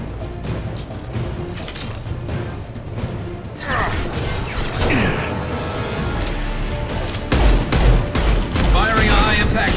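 Heavy gunfire and high-impact shots in Mass Effect 2 Legendary Edition, rapid bursts and crashing impacts layered with explosive booms and mechanical whirs, loud and continuous, with brief in-game voices mixed in.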